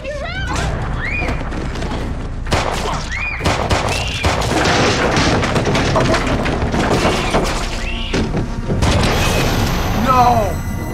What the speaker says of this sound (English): The gun went off.